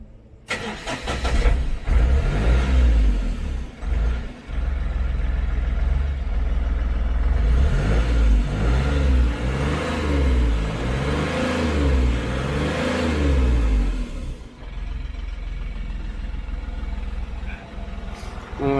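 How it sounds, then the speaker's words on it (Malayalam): An Ashok Leyland Dost pickup truck's engine cranks and starts, then idles and revs with a close, loud, rumbling diesel note that rises and falls before settling, with no talk. "ജസ്റ്റ് വണ്ടി ഒന്ന് സ്റ്റാർട്ട് ചെയ്ത് സൗണ്ട് കൂടെ കേൾപ്പിച്ചു തരാം."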